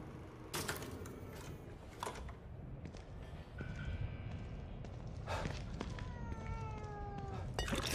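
A cat meows repeatedly in The Evil Within 2, its rising and falling cries arriving in a few bursts over steady game ambience and background noise.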